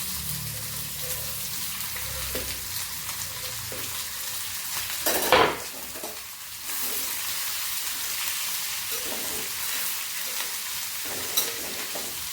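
Mustard seeds and curry leaves frying in hot oil, a close, steady sizzle with stirring scrapes and a sudden loud burst of crackling spatter midway, then continued sizzling, no voices.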